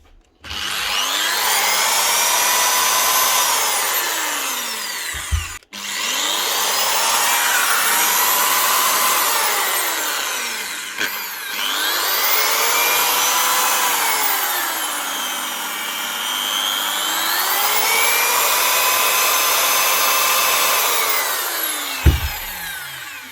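Makita HP2070 hammer drill with a power fault, losing strength at full speed, running in several long whining spells whose pitch sweeps up and down, separated by brief stops and sharp clicks.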